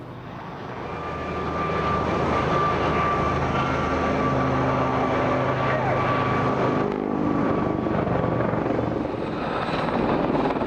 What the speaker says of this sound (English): And Lynx doing something there that helicopters really ought not to be able to do.